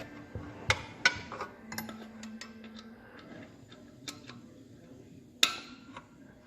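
A 14 mm wrench clinks and ticks against the oil drain plug of a 2004 Polaris Sportsman ATV, with scattered metallic taps and one sharp clank near the end, close and without speech.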